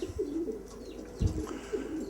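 Racing pigeons cooing close by, a few soft, low throaty coos in a short sequence, with a faint rustle between calls and no talking.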